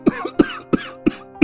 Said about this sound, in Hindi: खांसने लगता है।